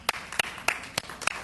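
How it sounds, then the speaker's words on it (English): A handful of sparse, evenly spaced claps at a school board workshop, five sharp hand claps roughly a third of a second apart, fairly quiet, with no voices. "I'm going to give it a round of applause"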